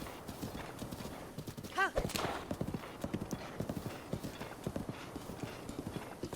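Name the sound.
horse Epona galloping, hooves clip-clopping, in Zelda Breath of the Wild video game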